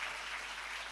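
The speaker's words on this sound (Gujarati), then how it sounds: "એને તાળીઓથી વધાવો તો આવે." Faint, even clapping from an audience at a Gujarati folk comedy show, a dense patter that holds steady and distant.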